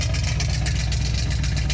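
The engine of a 1971 Ford idling after a cold start, a loud, steady, rumbling low throb with a rough, pulsing rhythm, close up and unbroken for nearly two seconds, with no talking.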